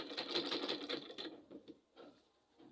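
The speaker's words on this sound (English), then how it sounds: "I just want to fold it and sew it round." Sewing machine stitching a folded fabric facing round the edge: a fast, steady rattling run for just over a second, then slowing into a few short bursts and quieter pauses. The stitching sounds close and moderately loud.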